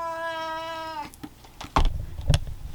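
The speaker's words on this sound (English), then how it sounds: "Oh, that is my cat." A house cat lets out one long, clear, tonal meow up close, followed by rustling and a few thumps and handling noises nearby.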